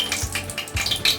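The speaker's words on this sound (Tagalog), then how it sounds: "lagyan natin ng mantika" Cooking oil pours into a pan with a soft, steady liquid gush and faint hiss, heard close and fairly loud for about a second with no talk over it.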